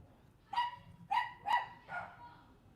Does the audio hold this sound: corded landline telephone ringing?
no